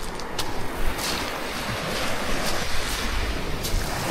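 Sea waves wash onto a shore along the coast of Mindoro, a steady surging roar with wind buffeting the microphone and a few brief splashes standing out, continuous and fairly close with no voices.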